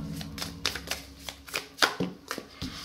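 Tarot cards shuffled by hand, a rapid series of crisp riffling flutters and soft slaps in an uneven rhythm, close and fairly quiet with no talking.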